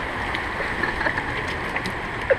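Steady rushing water of a river rapids raft ride at Djurs Sommerland, a continuous broadband wash with faint splashes, heard close and without talk.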